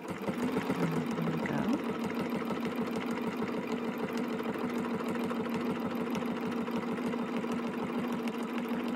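A sewing machine runs at an even, rapid stitching rhythm while sewing off the edge of a piece of fabric in a thread-play quilting class. The moderate, mechanical purr continues for the whole stretch.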